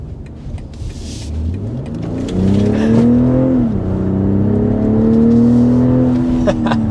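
A 2023 BMW X3 M40i accelerates hard up to 60 mph, heard from inside. The engine note climbs through the gears with clear dips at each shift, loud and continuous.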